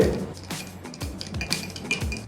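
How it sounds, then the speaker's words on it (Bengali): A spoon stirring milk in a glass, several light clinking taps against the glass at a steady rhythm, close and fairly quiet, with no talking. "একটু নাড়িয়ে নিলাম"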